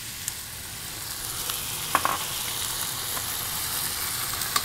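Red wine hits a hot pan holding cooked-down tomato for braised short ribs, producing a steady hiss with a few sharp pops and a brief louder spit midway, no talking.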